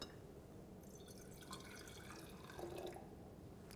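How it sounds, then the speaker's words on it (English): Distilled water being poured into a glass conical flask during a chemistry demonstration, a quiet steady trickling and dripping that builds slightly toward the end, heard alone without any talk. "we're going to take our conical flask and add to the conical flask 200 mils of water"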